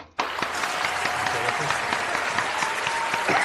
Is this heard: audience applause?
yes